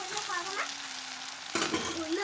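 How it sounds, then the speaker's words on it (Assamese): Peas fry in a pan, a steady crackling sizzle that jumps louder near the end as the pan is stirred. "এইখিনি এতিয়া অকণমান ৰঙচুৱা হোৱালৈকে ফ্ৰাই কৰোঁ।"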